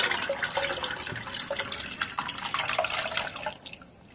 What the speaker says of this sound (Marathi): तर आता परत हे पाणी संपूर्ण गाळून घेणार आहोत आपण